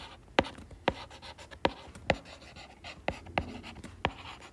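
Pen or pencil strokes on paper while working out a Class 9 math answer: a series of sharp, separate taps and scratches at an uneven rhythm, close and fairly quiet, with no talking.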